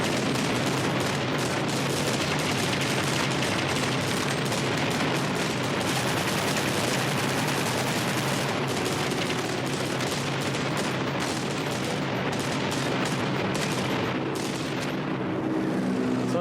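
Dense, continuous rapid gunfire crackles nonstop in the aviation video game Aviators, machine-gun bursts blending into a loud roar of battle.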